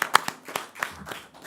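Brief, sparse clapping in memory of a person who has died, a few scattered claps from a small gathering, fairly quiet and uneven.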